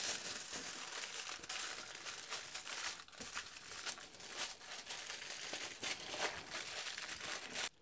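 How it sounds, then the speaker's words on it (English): Aluminium foil is crumpled and wrapped around a piece of soft wood being stabilised with resin, a steady close crinkling and rustling that runs throughout with a few sharper crackles. "Now I can take a section of the foil, and what I'm going to do is I'm just going to wrap it up."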